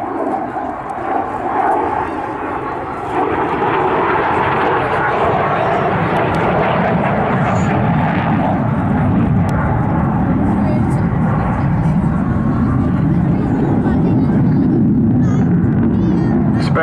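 A Saab SK-37 Viggen jet roars loudly and steadily overhead at an airshow, its broad heavy rumble sustained throughout with a brief swell near the start, while a commentator talks over it.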